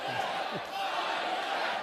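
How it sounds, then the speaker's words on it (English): A rally crowd in Superior, Wisconsin chants "Lion Ted" in unison, a dense roar of many voices filling the whole short stretch, close and loud. "An animated Trump led the crowd in a chant, Lion Ted."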